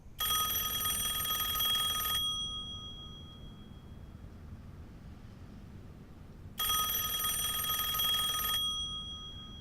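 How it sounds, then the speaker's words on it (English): A telephone rings in two long electronic bell bursts, each about two seconds, separated by a pause of around four seconds, clear and moderately loud in a quiet room. "Marilyn, Peter Lawford is on the phone."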